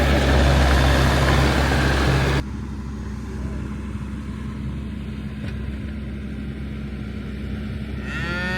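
Cattle lowing during a winter cattle move, a loud drawn-out moo opening the clip under gusting wind, then quieter steady wind and distant farm noise for the rest.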